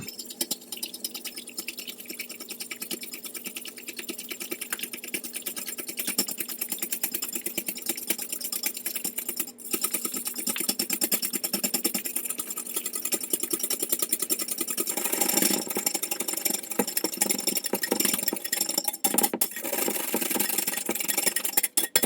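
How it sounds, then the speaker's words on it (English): Egg whites being whisked toward stiff peaks make a steady, fast, continuous high whirring buzz that grows louder and coarser partway through, with no talking. "I'm just going to whisk until stiff peaks form"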